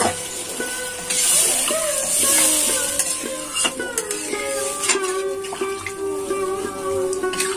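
Water poured into a hot pan of sautéed cauliflower and peas hisses steadily with light clinks of a utensil against the pan, close and continuous.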